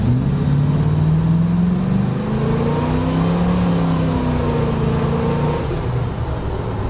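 A 1970 Ford Bronco truck with a positraction rear end accelerates during a performance test, its engine note rising steadily through the gears, loud and close, with no talk over it.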